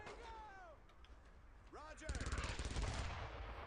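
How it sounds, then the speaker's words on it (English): A machine gun fires in a video game, a rapid burst of shots in the last second and a half, with game effects and faint voices before it. "that is an MG sound"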